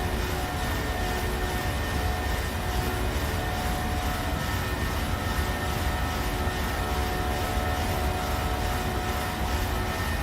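Boeing 737 jet engines at climb power in a flight simulator, a dense steady roar with a thin whining tone on top, loud and unbroken the whole time.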